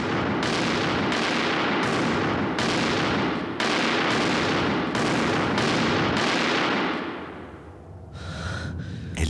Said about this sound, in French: Il file à la cuisine, dégaine et tire vers le sol.